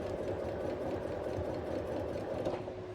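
A sewing machine runs steadily while stitching a quarter-inch seam along a drawn line on quilt fabric, giving a continuous close mechanical whir with a fast rhythmic needle patter throughout.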